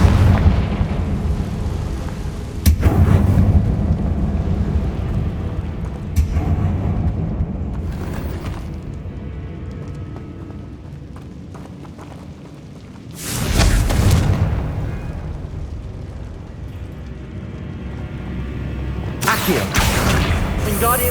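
In the video game Hogwarts Legacy, the Confringo fire spell sets off three heavy, booming blasts, each a sudden broadband burst over continuous game ambience, with a spoken voice heard at points.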